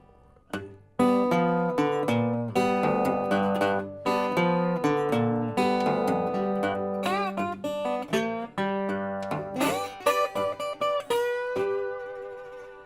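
A blues guitar riff is played alone, with plucked notes, slides and string bends in a loose, rhythmic pattern.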